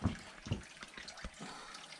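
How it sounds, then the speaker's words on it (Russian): Spring-fed running water flowing into an outdoor pool beside a wooden bathhouse in a Mari El village, a quiet continuous trickle and splash with a few soft knocks, heard fairly close. "Здесь выход в бассейн, который полностью на родниковой воде. И вода проточная."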